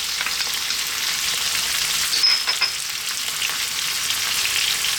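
Chopped garlic fries in a pan over medium heat with sliced onion for a chicken cream sauce, giving a steady, close, bright sizzle that holds level throughout, with a brief scrape midway.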